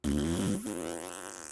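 A person imitates a farting noise with the mouth: one loud, buzzing, sputtering blast lasting over a second, close to the microphone, wobbling in pitch as it trails off.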